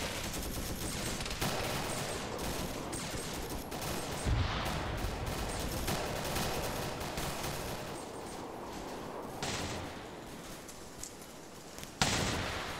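Sustained gunfire rattles through a Vietnam-era SOG boat raid in a video game. Bursts of automatic fire and scattered heavier booms roll on continuously for over twelve seconds at a moderate distance.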